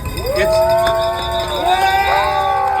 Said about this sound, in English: Hear the cheering.